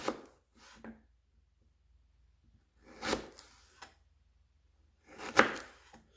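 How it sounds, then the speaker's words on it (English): A knife cuts through ginger on a cutting board in three separate bursts of slicing and knocking, close and clear, with quiet gaps between them. "I like to cut it in half first and then slice it thin from here."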